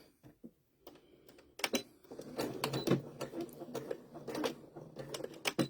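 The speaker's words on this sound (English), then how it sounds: "I'm back stitching about 4 or 5 stitches" A sewing machine back stitching fabric for a baby bib runs in short, uneven mechanical bursts, faint at first and then a busier rattling patter.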